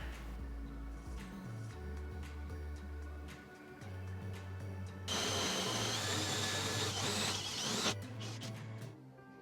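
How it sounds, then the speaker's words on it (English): A router cutting into the wooden frame of a digital magic mirror, a loud steady whine that drops in pitch as the bit bites and rises in a harsher burst midway, with no talking. "I'm going to use a router to reduce the depth of the wood"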